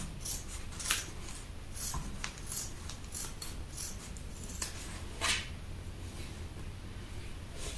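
Scissors cut through fabric along a pinned pattern, giving repeated crisp snipping and rubbing strokes in an uneven rhythm, close up and moderately quiet.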